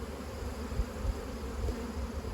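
Honeybees buzz steadily around an open beehive, a dense, continuous hum that stays close and moderately loud throughout, with no voices.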